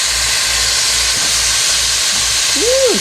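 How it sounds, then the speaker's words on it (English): Four pieces of bacon sizzle in a pan at the start of okra and tomatoes, a loud steady hiss close by with a brief vocal sound near the end. "we're putting our bacon in"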